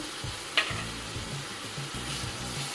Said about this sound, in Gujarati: ડુંગળી સંતળાઈ જાય એટલે તેમાં ટામેટાની કરેલી ગ્રેવી નાખવાની.